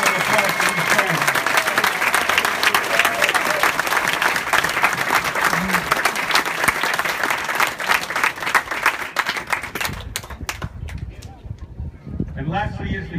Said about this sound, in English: Please join me in a round of applause for these parents.